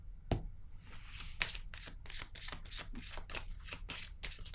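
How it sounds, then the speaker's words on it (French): Playing cards from a deck used in a French-language card reading are shuffled in quick, repeated riffles and slides, one sharp snap near the start, then a card is drawn; close and fairly loud, with no talking. "Je vais piger une autre carte."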